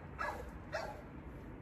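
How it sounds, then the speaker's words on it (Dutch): A dog barks twice, short and distant, at a low level against quiet background noise. "Ik hoor een hond."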